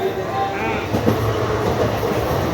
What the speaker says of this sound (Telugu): కానీ అంతలోనే ట్రైన్ కదిలిపోయిందండి